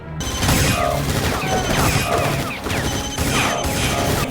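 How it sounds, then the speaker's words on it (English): A gunfight from an episode of Stargate SG-1 erupts in rapid bursts of loud gunshots and crashing impacts, dense and continuous with a dramatic score underneath. "Got a whole ass shootout."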